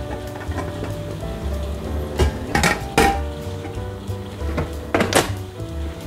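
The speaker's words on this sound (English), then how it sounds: "Move this and put it into the outer pot." A pudding basin for a traditional English Christmas pudding is set into an outer cooking pot, giving several close ceramic and metal clunks and thuds, then a lid is clanked shut with a few more sharp knocks.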